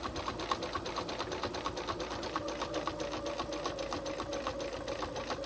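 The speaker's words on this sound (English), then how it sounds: "So I'm going to carefully stitch to there." Steady, fairly quiet whirring and rapid needle chatter from a sewing machine running at a slow, careful pace as it stitches a folded picture frame flange border on a quilt, heard alone with no talking.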